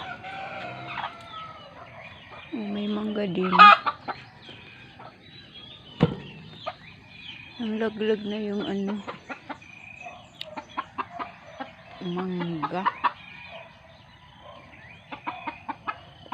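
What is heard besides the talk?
chickens clucking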